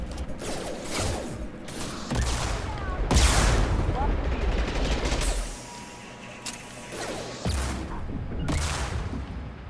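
Machine pistol bursts and scattered gunfire crackle through a Mass Effect 2 firefight, several loud rapid volleys broken by short pauses, with someone talking over the combat at times.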